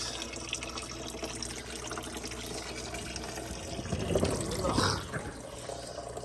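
Fluid draining from a pulled hose on a Saturn car, a faint trickling and splashing stream in a workshop, swelling briefly before settling back.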